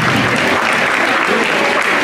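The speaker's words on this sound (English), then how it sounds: "Please give them a round of applause" A brief, dense burst of audience applause for presenters at a dance competition presentation, steady and fairly close.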